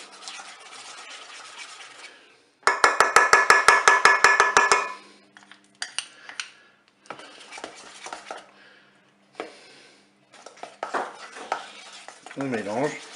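Spoon scraping and clattering in a bowl while cake batter mixed with Nutella is stirred, a fast rhythmic burst of close strokes followed by slower intermittent scrapes.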